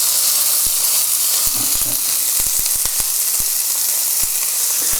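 A burger fries in a small amount of oil in a hot pan at medium heat, giving a loud, steady sizzle with scattered pops and crackles.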